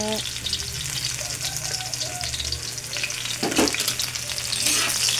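Ricados, a spice mix, fry in a hot pan and are stirred, giving a steady close sizzle with scraping stir strokes, while faint voices briefly murmur in the background.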